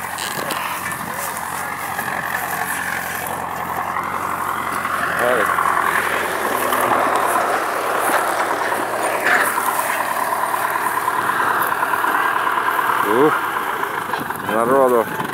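A fire engine arrives and idles at a village fire scene in May, its loud diesel engine rumbling steadily up close while people talk over it.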